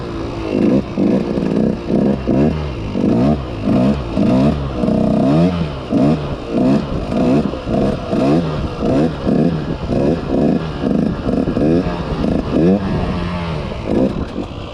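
Dirt bike engine revving hard in rapid repeated bursts while the rider holds a straight wheelie on an enduro practice area, loud and close, with rhythmic throttle blips throughout.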